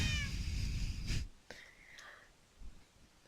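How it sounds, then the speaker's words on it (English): Tamed cats in the Minecraft video game meow a couple of times, short and faint, after a hushed voice fades out. "No doubt from the noise you can hear downstairs, I finally managed to tame some cats."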